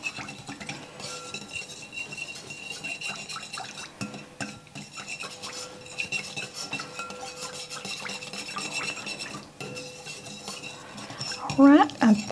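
A spoon stirs a chicken cobbler mixture in a bowl, scraping and clinking in a steady, uneven rhythm at close range, with a louder clatter near the end.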